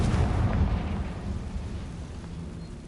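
Confringo blasting-spell explosion in Hogwarts Legacy, a loud rumbling boom that fades out over a few seconds.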